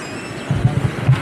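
A bus travelling by road toward Dieng gives off a low engine drone and road rumble with a few soft thumps, steady and fairly close.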